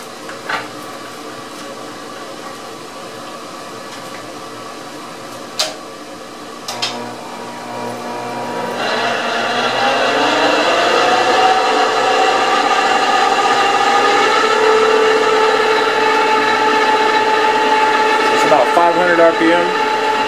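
A Monarch 10EE lathe with control issues runs in back gear, its steady mechanical hum and whine rising in level after a few seconds and holding close and continuous, with a few brief knocks early on.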